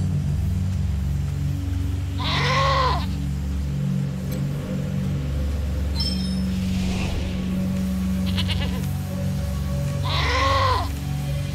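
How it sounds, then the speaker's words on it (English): Mountain goats in the Wasteland 3 video game let out two distinct wavering bleats several seconds apart, heard over a steady low droning game ambience with some faint effects between them. "So all that was right there was the mountain goat."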